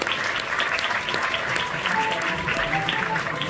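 A festival audience at a closing ceremony applauds steadily, a dense wash of clapping at moderate loudness throughout, with faint voices and tones underneath.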